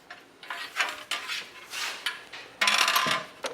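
Plastic fill bridge pulled from a form-fit liner in a Buckhorn Caliber IBC container, giving a series of light clattering knocks and rattles, then a louder scraping rustle near the end.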